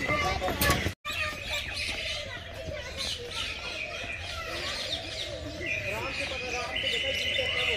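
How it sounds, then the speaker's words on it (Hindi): Pigeons chirp and coo continuously in a busy outdoor spot by a wooden bridge in Islamabad, with a steady background hum and a sharp knock near the start. "इतना कबूतर है ले लो"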